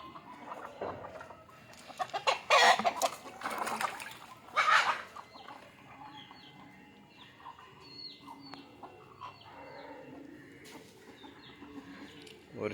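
Chickens and a rooster at an evening feeding cluck and squawk nearby, with louder bursts early on that settle into scattered soft clucks and chirps.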